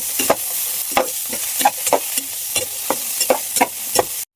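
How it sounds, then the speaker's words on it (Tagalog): Pork sizzles and spits steadily in its own rendered fat in a pan, with regular scraping stirs of a spatula every fraction of a second, loud and close with no talking. "Parang ginigisa natin sa sariling mantika."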